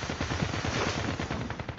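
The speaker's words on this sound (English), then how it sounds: "We got gunfire down here." Rapid bursts of video game gunfire crackle continuously and loudly while the player snowboards down toward a building, with no talk over the shots.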